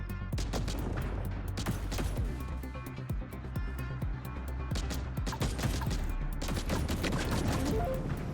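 Dense, continuous gunfire bursts fill a roguelite survivor video game round, with rapid overlapping shots and impacts over a steady loud game soundtrack throughout.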